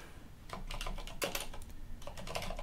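Keys clatter on a computer keyboard while typing a Linux command, quick irregular taps close and fairly soft over a faint background hiss.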